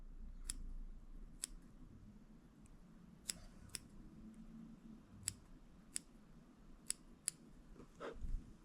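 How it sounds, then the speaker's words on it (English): Scissors trim the materials of a bonefish fly, a series of about ten sharp, quiet snips at an uneven pace close by, over a soft background hum. "And this is where you trim it up."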